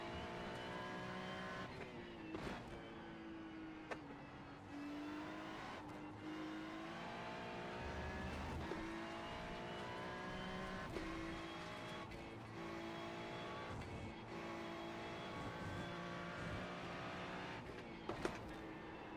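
Race car engine in the GT3 racing video game at the Glen, droning steadily throughout with gear shifts, revving and occasional tire squeal, loud and close with no talking.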